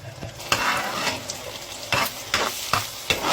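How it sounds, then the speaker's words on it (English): Tomato paste for Senegalese thieboudienne sizzles in a pot while a spoon stirs it, with a steady frying hiss broken by several sharp scraping strokes against the pot, close and fairly loud. "So make sure you give it a good stir and allow it to cook."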